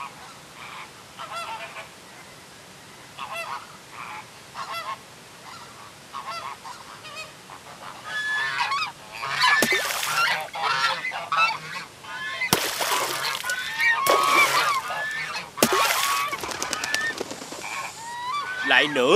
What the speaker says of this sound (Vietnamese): đàn vịt đẹp chưa kìa hai anh?